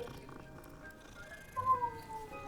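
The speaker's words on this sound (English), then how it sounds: "It purred." A cat in the game Hogwarts Legacy gives a soft, faint purr and then a short rising meow, quiet and close against a low ambient background.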